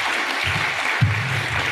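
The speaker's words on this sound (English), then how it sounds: "Another round of applause for this wonderful team." A conference audience applauds a panel at a global education forum, producing a continuous wash of clapping at moderate level with a low hum running beneath it.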